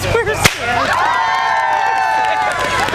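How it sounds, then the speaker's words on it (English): A single sharp bullwhip crack snaps loudly near the start, followed by a sustained roar of crowd cheering and noise from an audience at a winter festival show. "I'll crack the whip again."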